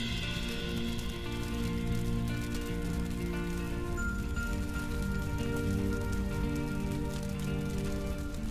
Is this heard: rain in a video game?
yes